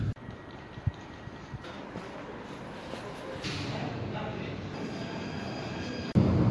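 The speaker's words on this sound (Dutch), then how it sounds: "Oeh, klassiek motorstel." Steady rumble and rolling hum of a classic electric multiple unit train running on the rails in the Netherlands, continuous throughout, with a brief louder burst at the very end.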